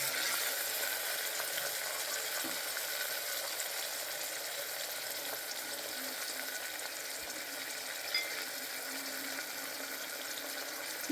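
Onions and green chilies with curry leaves and coriander frying in a pan for vegetable sambar, a steady soft sizzle with a faint watery hiss running evenly throughout, no voices.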